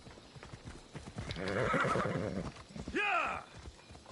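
A horse in the Assassin's Creed Odyssey game clops its hooves, then lets out a long whinny followed by a shorter snort-like neigh, close and clear over faint background sound.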